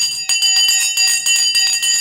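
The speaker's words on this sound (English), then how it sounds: "Let me ring the bell." A bell rung repeatedly in quick bursts, bright and loud, several strikes in an uneven rhythm with short gaps between them.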